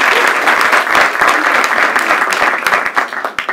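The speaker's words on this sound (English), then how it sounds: "So let's give them a big round of applause." An audience at a Schey Talks 2018 event breaks into a big round of applause, dense steady clapping that stays loud throughout with no talk over it.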